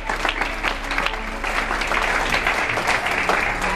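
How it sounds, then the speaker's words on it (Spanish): A church congregation gives loud, sustained applause, dense clapping with a few shouts mixed in and a low steady hum beneath. "Demos un aplauso fuerte,"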